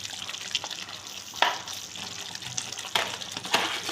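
Pointed gourd and poppy seed curry with cashews, garam masala and kasuri methi being stirred in a pan: a steady low sizzle broken by a few sharp scraping strokes of the spoon, close and clear.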